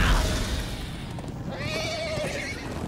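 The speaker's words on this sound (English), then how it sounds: "Horses." Horses whinny in Minecraft: Story Mode, with a rising, wavering neigh standing out clearly over rumbling hoofbeats and background game noise.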